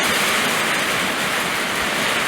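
Steady rain begins falling outdoors on a farm during haying, a dense, even hiss of drops on surfaces continuing without a break and fairly loud, with no voices.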